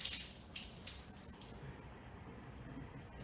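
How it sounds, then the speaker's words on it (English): Tap water runs into a sink as a cloth is wetted under it, a soft, faint splashing and trickling stream in a quiet kitchen. "I like to do a wet cloth over mine. So I'm going to wet this down."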